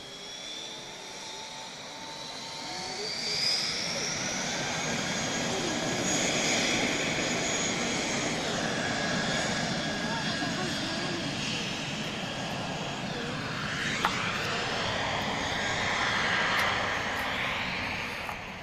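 A jet airliner roars through its takeoff run at Lisbon Airport, a loud sustained engine rumble and whine that swells and holds from a moderate distance, with no voices.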